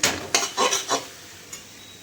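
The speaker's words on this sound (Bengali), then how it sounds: "পাট শাক রান্না করা একটু ভাজা ভাজা করার চেষ্টা করছি" Jute leaves fry with onion, garlic, green chili and black cumin seeds as a metal spatula stirs and scrapes the pan in several quick strokes over a soft sizzle, then a lone tap.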